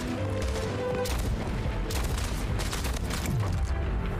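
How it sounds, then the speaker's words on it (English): A weapon is hip-fired in a multiplayer shooter such as Splitgate or Rogue Company, with dense bursts of gunfire and booms layered over constant loud game noise and no voices. "I gotta stop hip firing that thing"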